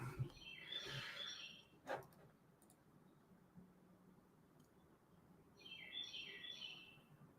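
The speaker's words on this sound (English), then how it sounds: "Oh, I see your birds are back. Oh, you hear them?" Birds chirping outside in two short bursts of quick, high tweets, one near the start and one near the end. They are faint against a quiet background hiss with a single click between them, and no one talks.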